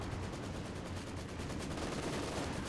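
A machine gun in Company of Heroes 2 rattles in rapid continuous bursts, a steady fast clatter of shots heard at moderate distance amid battlefield noise, without talking.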